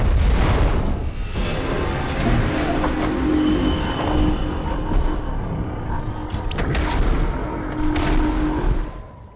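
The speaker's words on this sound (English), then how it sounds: "She's a massive mech with Gatling guns for arms that do things like this Gatling barrage" Imperial Knight mech unleashes a Gatling barrage in Dawn of War 3, a dense, continuous rumble of heavy booming fire and explosions lasting several seconds, loud and sustained before cutting off.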